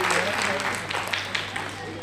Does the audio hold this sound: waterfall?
no